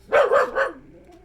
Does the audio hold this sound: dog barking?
yes